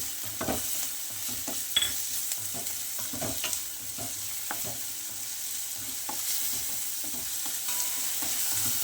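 Onions frying in a pan on the stove give off a steady, soft sizzle, with scattered light clicks of stirring and no voices.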